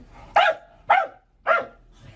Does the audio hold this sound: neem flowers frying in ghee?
no